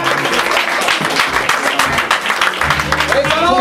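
Church congregation clapping, a dense continuous burst of hands applauding close up, with a voice and some tonal sound faintly underneath.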